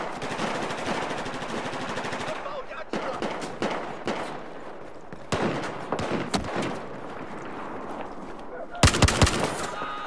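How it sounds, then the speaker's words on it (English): A machine gun fires in Battlefield 4 in rapid sustained bursts broken by short pauses, with a sharp loud burst near the end and game voices faintly underneath. "Enemy machine gun is spotted."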